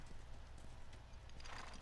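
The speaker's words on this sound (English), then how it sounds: "Well, Joel, you have to get off the horse." Horse hooves clip-clop in The Last of Us video game, a steady, fairly faint walking rhythm with a brief whinny-like sound near the end.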